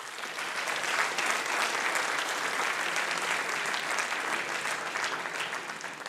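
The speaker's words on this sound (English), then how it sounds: "Big round of applause." An audience at an entrepreneurship centre demo day breaks into a big round of applause, dense, steady clapping from many hands that fills the room for several seconds without pause.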